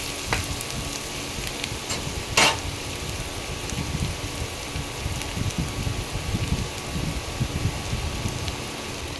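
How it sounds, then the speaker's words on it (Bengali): Chopped garlic frying in hot oil for a chana murgh dish: a continuous close crackling sizzle with fine popping, steady and moderately loud, with one brief sharper burst of spatter early on. "এবার রসুন কুচিটা ভাজা ভাজা করব, একটু ভাজা তেলে ভেজে নেব।"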